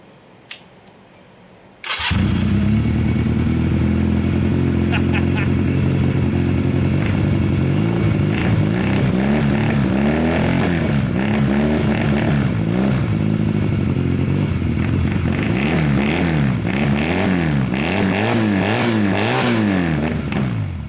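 A Honda CB250 motorcycle engine in the middle of a build cranks and catches after a short quiet pause, then settles into a loud, steady idle with rhythmic throbbing pulses that carry on close up to the end, with no one speaking.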